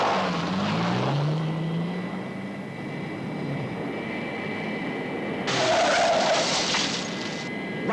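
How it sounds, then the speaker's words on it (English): Thunderbird 1 rocket plane lifting off in a TV sound effect: a loud, steady roaring jet rush with a rising whine, swelling into a brighter blast burst near the end. "As soon as Thunderbird 1 takes off"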